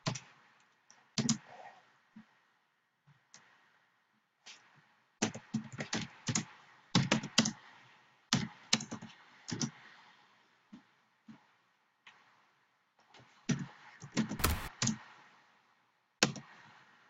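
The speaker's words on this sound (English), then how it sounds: "Jeez, my keyboard." Bursts of computer keyboard typing, quick clusters of sharp clicky keystrokes separated by pauses and isolated taps, close and fairly quiet, with no voice.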